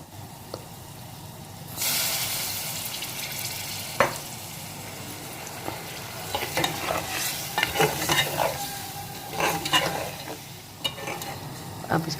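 Beetroot and meat for chukandar gosht cook in a pot, starting quiet and then erupting into a loud, continuous sizzle and hiss, with clattering stirring strokes and bubbling throughout, and no voices.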